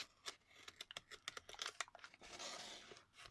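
Scissors snip through scotch tape on the packaging of a Xiaomi Redmi 9C/9A screen assembly, a quick run of crisp close cuts followed by crinkling and rustling of tape and wrap.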